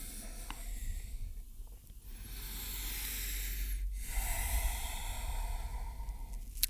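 Slow, audible breathing of someone resting in child's pose during yoga practice: a few long, soft exhales and inhales, fairly close, with a low rumble in the background.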